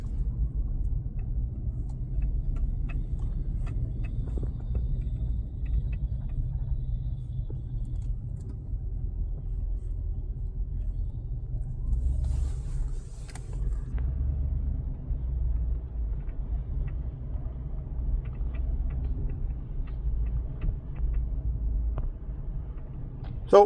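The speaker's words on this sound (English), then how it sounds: "it's a 3/4 ton truck with a 17-foot trailer behind me" A 3/4 ton truck towing a 17-foot trailer, heard from inside as a steady low engine and road rumble that holds evenly throughout.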